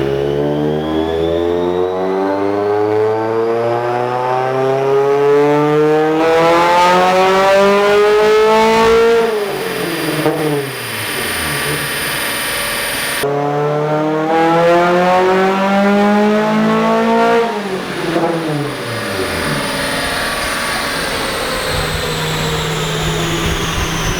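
A nitrous-fed Mazda Miata engine revs on a dyno in two long, loud pulls, its pitch climbing steadily to a high scream before each sharp cutoff and falling idle.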